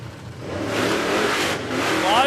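A Holden HQ drag car launches off the start line at a no-prep drag strip, a loud engine roar rising as it pulls away, with crowd and track noise around it.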